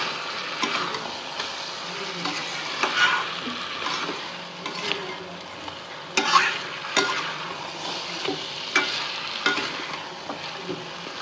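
Meat being sautéed and stirred in a covered pan, with uneven scraping, clattering and soft sizzle recurring throughout at moderate volume, with no talking.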